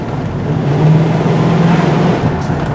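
A 1979 Dodge Magnum with a 360 V8 idles steadily and loudly up close, a continuous low rumble with a slight uneven lope and no talking.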